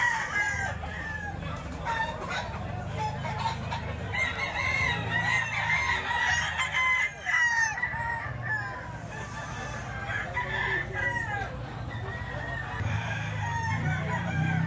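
Gamecock stags crow and cluck in a crowded yard, several long crows rising over constant overlapping clucking and a steady low rumble of background noise.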